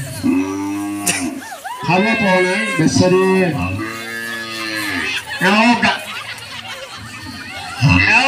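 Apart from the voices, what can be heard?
cow mooing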